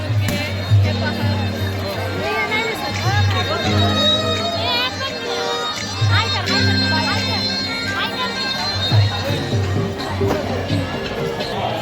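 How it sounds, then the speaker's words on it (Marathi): Dense crowd of pilgrims at a palkhi procession fair, a continuous hubbub of many voices with children's chatter and rhythmic drumming or music underneath, close and busy throughout. "खूप गर्दी आहे"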